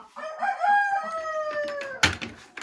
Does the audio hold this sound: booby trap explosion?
no